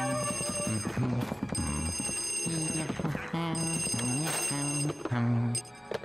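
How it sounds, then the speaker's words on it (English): An in-game telephone rings in an attic room of a Luigi video game, sounding as loud, repeated two-tone electronic ringing bursts mixed with other game sounds. "you can hear a telephone mysteriously ringing in one of the attic rooms"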